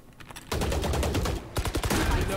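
A swarm grenade detonates in a video game as a rapid, dense crackle of many small overlapping bursts, loud and continuous, with a brief dip before a second flurry of pops.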